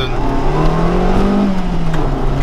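A car engine pulls hard under acceleration, loud and close, with a steady drone whose pitch climbs and then eases back slightly.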